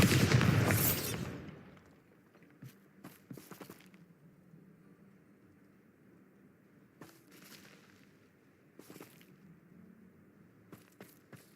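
A Bombarda blasting spell detonates in Hogwarts Legacy with a loud, booming burst that fades over about two seconds, followed by scattered faint cracks and thuds in a quiet game scene.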